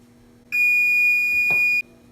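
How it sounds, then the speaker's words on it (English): A kitchen oven timer gives one sustained, piercing electronic beep lasting over a second, loud and close, against quiet room tone, while stuffed portobello mushrooms bake. "You're gonna wanna set your timer for 15 minutes."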